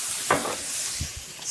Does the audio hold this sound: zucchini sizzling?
yes